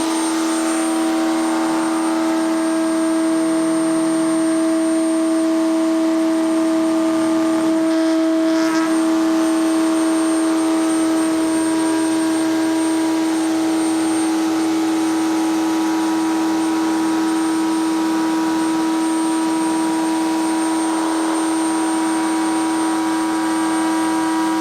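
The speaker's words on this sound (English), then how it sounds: "we've got a Triton router" A Triton router mounted in a Kreg router table drives a flush trim bit through plywood with a loud, steady, high-pitched whine that runs unbroken for the whole stretch, and no one speaks.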